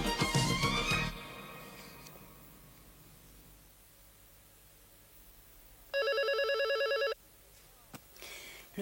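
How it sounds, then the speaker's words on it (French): A telephone in a French sitcom scene rings once, a bright, steady electronic ring lasting about a second, heard alone after a loud clatter at the start and a quiet stretch. "Le téléphone. C'est toujours quand on est occupé qu'il sonne."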